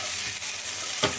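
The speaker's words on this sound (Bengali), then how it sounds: "টমেটো, কাঁচা লঙ্কা, তেলের সাথে কাজুগুলো একটু ভেজে নিই" Cashews frying in oil in a pan with tomato and green chilli, giving a steady close hiss and sizzle with one brief louder flare of spatter and no voices.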